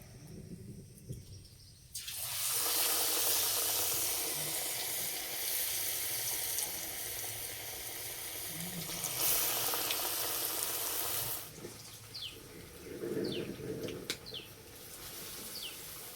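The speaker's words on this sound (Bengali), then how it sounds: "সবগুলো বানিয়ে নিয়েছে, এবার ভেজে নেব" Potato and egg chops dipped in gram flour batter hitting hot oil, a loud hissing sizzle that swells, eases, then flares again as more pieces go in, with no talking.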